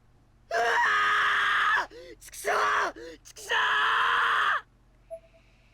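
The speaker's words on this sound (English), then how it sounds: "primal scream erupted from Naomi's floating body" Scream from the horror video game Corpse Party: Blood Drive, two long, loud anguished screams separated by shorter broken cries and groans.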